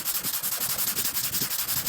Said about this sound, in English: I'm just going with the curves in an X pattern here. I'm sanding it from both sides.